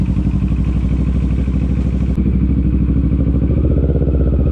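A motorcycle engine chugs steadily, its rapid putter growing slightly heavier toward the end, close and loud with no talking.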